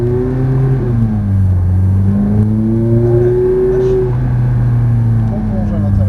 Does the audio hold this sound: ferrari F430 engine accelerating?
yes